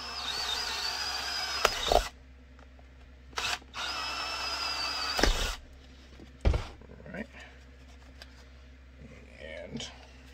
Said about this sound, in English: you really want to let the drill bit do the work because you will crack it.